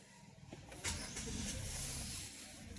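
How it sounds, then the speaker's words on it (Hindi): Car engine being started with the ignition key during an ECU sensor check, a faint crank followed by a low idle that settles in, with no one speaking. "अब मैं आपका गाड़ी को स्टार्ट कर रहा हूँ।"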